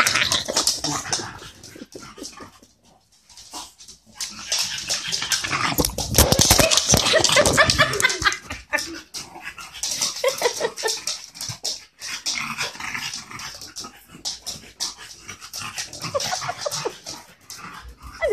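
An English bulldog whimpers, yips and snuffles for a long stretch indoors, close and fairly loud, with paws scrabbling and clicking in between, with no talking over it.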